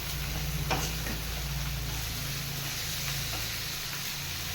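Eggplant slices sizzle in hot oil for a dahi baingan dish, a soft, continuous frying hiss with a few faint clinks and stirring touches near the start.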